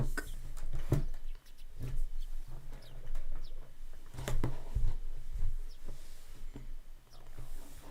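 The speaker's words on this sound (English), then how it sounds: "We get some chill sounds of birds" Bird calls ring out in Higurashi video game ambience, a few short chirps and clucking notes spaced irregularly over a quiet background, with a couple of louder close knocks.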